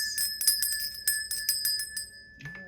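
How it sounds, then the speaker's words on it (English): A small handheld bell is rung rapidly about ten times to cleanse a space, its bright ringing strikes sharp and close. A low thud follows at the end. "So let's ring the bell and cleanse this space."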